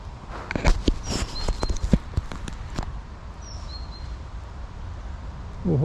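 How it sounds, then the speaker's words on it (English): Horses move through an autumn field near trees, their irregular hoof thuds and clops landing close by for the first few seconds, then fading under soft outdoor ambience with faint birdsong. "More horses down through the trees."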